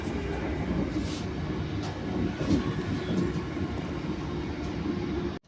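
Hitachi AT200 Class 385 electric train running on the line between Glasgow and Edinburgh, a steady low rumble and roar heard from on board, continuous and fairly loud, ending abruptly.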